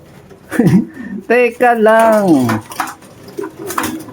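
Racing pigeons being fed on basketing day give low, faint coos and murmurs nearby, mostly under someone talking loudly close by.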